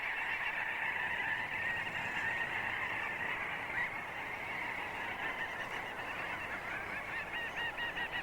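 Seabirds crowd a summer shore on the Norwegian coast, and a dense, continuous chorus of honking calls from many birds overlaps without pause, loud and close, with no talk.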